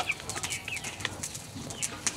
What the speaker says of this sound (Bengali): তা কিভাবে মুরগির ছাউনিতে পানি খাইতে আসে দেখেন।